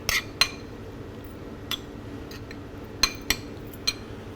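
Utensil clinks against a bowl while pasta is tossed with pesto of garlic, parmesan and pine nuts, a few sparse, light metallic taps over quiet kitchen ambience.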